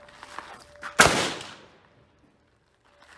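A single sharp, loud report from an Enfield No.4 Mk1 rifle firing one round, with a chamber fouled by crud, ringing out and fading over about a second, then quiet.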